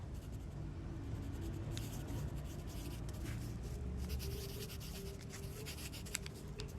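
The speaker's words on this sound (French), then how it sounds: "Tu vas prendre ton crayon et tu vas écrire ton nom." A pencil writes a name on paper, giving a steady, close scratching and rubbing under a low background hum that continues for several seconds without pause.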